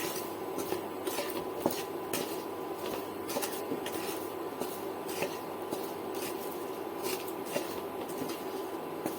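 Popcorn stirred with food colour in a pan, producing repeated scraping and rattling strokes of a utensil against the pan over a steady low background hiss.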